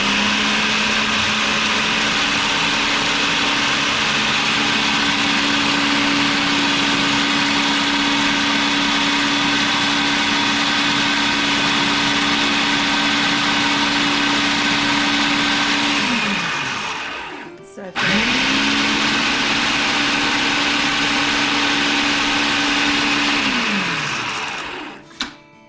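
Kitchen blender whirring steadily as it purees green seasoning with peppers, loud and close, a sustained motor drone that cuts out briefly and winds back up before running down again at the end.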